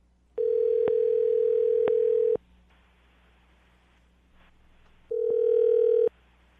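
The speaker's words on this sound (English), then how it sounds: "I'm going to dial the phone number right now" A telephone line sounds while a number is dialed for a morning radio call: a steady, loud electronic tone holds for about two seconds, cuts to a low hiss, then returns for another second.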